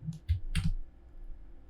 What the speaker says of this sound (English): I am clicking on the mirror tool,